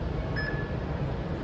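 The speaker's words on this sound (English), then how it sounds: "Answer me after beep sound." A single short electronic beep from a receptionist robot at RoboCup@Home sounds briefly over a steady background hum.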